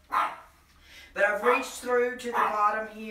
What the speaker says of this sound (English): I don't know why they're wanting to bark.